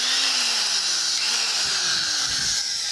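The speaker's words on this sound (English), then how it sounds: "So we'll plug the drill in" An electric drill mounted on an old mag-drill base runs continuously, a close, steady motor whine with a slowly falling pitch, loud and alone without any voices.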